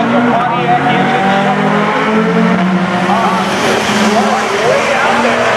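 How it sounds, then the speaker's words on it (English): A Pontiac and a Ferrari launch side by side at a drag race, a loud sustained roar of engines with tire noise, continuous and close, with crowd or announcer voices faintly underneath. "Pontiac in stage, Ferrari in stage. The lights begin to drop. Off the mark they go."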